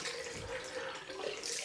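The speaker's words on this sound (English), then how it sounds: "I'm now rinsing out my cloth" Cold tap water runs steadily over a cloth being rinsed at a sink after a straight-razor shave, a soft continuous splashing hiss with no talking.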